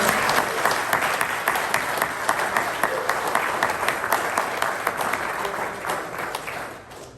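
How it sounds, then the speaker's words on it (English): Audience applause for Rabbi and Ruti Weiss at a Sherman Oaks celebration for the completion of the Tanya, a dense, steady round of clapping from a crowd that fades near the end. "Let's hear it, please, a round of applause for Rabbi and Ruti Weiss."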